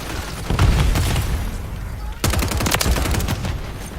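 Rapid bursts of gunfire crack through a Call of Duty League match, two clustered volleys of loud, sharp shots separated by a brief lull, with a voice talking faintly underneath.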